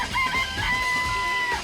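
Chickens in a coop in the Danganronpa video game let out drawn-out, tonal clucks and calls that overlap one another over a short moment, fairly clear and unaccompanied by speech.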